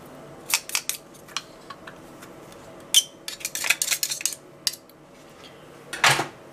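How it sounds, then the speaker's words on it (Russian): Funchoza glass noodles are tossed with fresh garlic in a bowl, giving irregular bursts of sharp clinks and scrapes from utensils against the dish at close range, with no speech. "Все перемешиваем."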